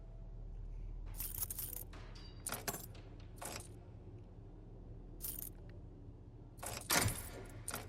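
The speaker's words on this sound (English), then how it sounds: "fumbling around with the keys" A bunch of keys jangling and clinking in short bursts while someone fumbles to unlock a door in the video game Resident Evil 4 Remake, several separate rattles with brief pauses, close and fairly quiet.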